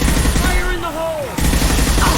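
Gunfire in the video game Mass Effect 2, a dense burst of loud, close automatic shots rattling continuously with a brief whining effect midway.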